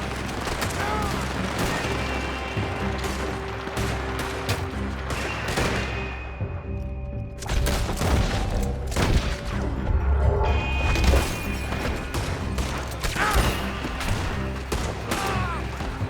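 Dense, rapid gunfire from a shootout in the video game Red Dead Redemption 2, with repeated sharp cracks and bursts over loud battle noise, close and continuous with brief shouting mixed in.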